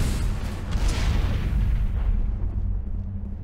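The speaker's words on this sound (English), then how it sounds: "And it exploded." A deep, rumbling explosion in the Mass Effect video game fills the opening, then a dense low boom decays steadily over several seconds and fades out without speech.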